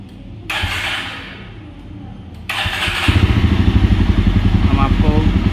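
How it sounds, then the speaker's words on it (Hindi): A Jawa 42 Bobber motorcycle engine cranks and starts, then settles into a loud, steady, pulsing idle close by, with someone talking over the start. "और बाइक को स्टार्ट करते हैं।"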